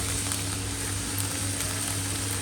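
Meat for carne alla pizzaiola fries in a pan with a steady, close, even sizzle and a constant crackle, and no voices.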